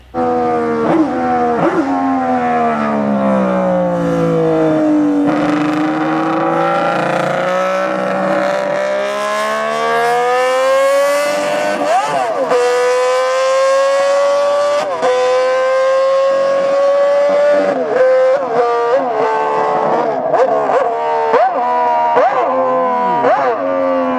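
A Honda RC166 six-cylinder 250cc race motorcycle screams at very high revs, its shrill, siren-like wail rising and falling through gear changes as it passes, loud and sustained throughout.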